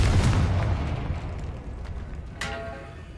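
A Confringo fire-blast spell in Hogwarts Legacy, cast inside a tomb: a loud rumbling boom that decays over a few seconds, with a second sharper burst near the end.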